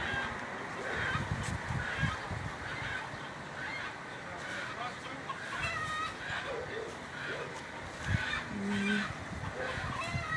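A chicken caught in a net squawks and complains in repeated harsh honking cries, loud and close, amid outdoor background noise and scattered voices.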